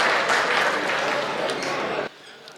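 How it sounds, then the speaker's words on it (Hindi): Dense, steady clapping from a large audience at a Hindi comic poetry recital fills about two seconds, then cuts off abruptly to a quieter room with a few faint sounds. "एक बार जोरदार ताली बजा दो आप"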